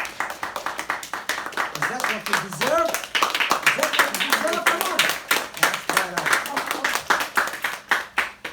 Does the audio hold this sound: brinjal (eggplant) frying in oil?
no